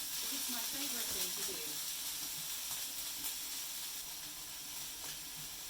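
Miso ramen ingredients stir-fried in a pan give a steady, close hiss of sizzling oil, with light scraping and stirring clatter early on before the sizzle settles into an even wash.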